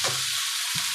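Spiced food with salt and turmeric sizzles steadily in a pan, with a couple of soft stirring scrapes under the hiss.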